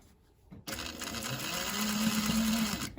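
A sewing machine back tacks over a French seam on a fabric bag. After a quiet moment the motor starts abruptly, then runs in a close, steady whir for about two and a half seconds before stopping.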